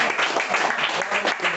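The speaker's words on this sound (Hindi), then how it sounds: "तब तक ताली बजा सकते हो आप लोग।" A live audience at a Hindi poetry performance applauds, with dense, steady clapping from many hands filling the room for a moment.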